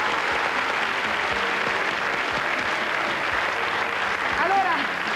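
Studio audience applause for the orchestra on a 1994 Italian TV variety show, a steady dense clapping that fills the whole stretch at even loudness.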